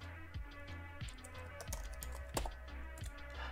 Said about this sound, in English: Then finally, we'll type period slash install.sh.